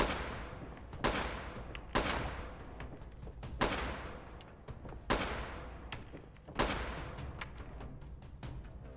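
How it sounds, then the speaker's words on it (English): A cryo shotgun in Fallout 4 fires six loud, booming shots at a steady pace of roughly one every second and a half, each blast trailing off before the next. "It's a cryo shotgun."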